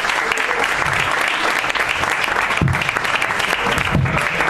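Audience at the Irish Corner in Madrid breaks into dense, steady applause, loud and close, with many hands clapping continuously throughout.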